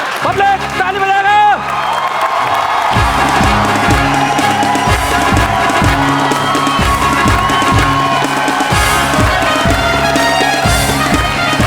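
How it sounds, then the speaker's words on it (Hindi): An audience at a Hindi comedy poetry gathering applauds and cheers, a loud, dense wash of clapping and shouts running almost the whole time over a steady rhythmic beat. "पब्लिक ताली बजाएगा।"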